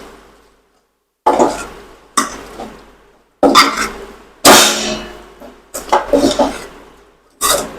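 Crushed peanuts and lemon are stirred into a garlic chutney masala with raw banana in a pan, giving repeated scraping clangs of a spoon against metal in irregular bursts, close and fairly loud.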